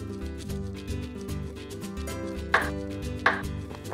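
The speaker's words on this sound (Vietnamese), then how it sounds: "Các nguyên liệu được thái miếng vừa ăn" Ingredients for crispy fried noodles with spirulina are cut into bite-size pieces with a knife. Two crisp, distinct chops land on a board over steady background music, with no talking.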